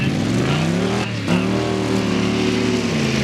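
A Duramax-powered Silverado truck races at a mud drag event in Valemount, its loud diesel engine roaring and climbing in pitch, a brief dip near the middle, then revving higher again.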